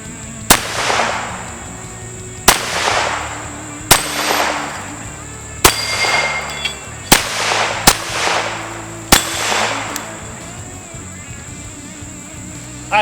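Extar EP9 pistol-caliber PDW carbine fired outdoors at targets: seven sharp, loud single shots spaced irregularly a second or two apart, each with a short ringing decay and faint background noise.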